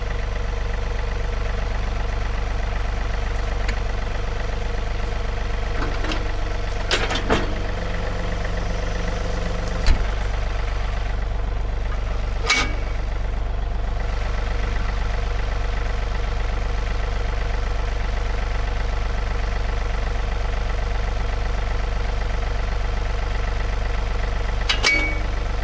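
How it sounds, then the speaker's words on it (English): A John Deere 3039R compact tractor idles in a steady, low, continuous drone, with a few sharp clicks and knocks over the running engine. "Let me shut off the tractor."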